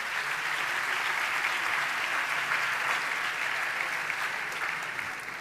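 Applause from the audience at a sports awards night, a full, sustained roar of many hands clapping at a steady level throughout, with no speech on top.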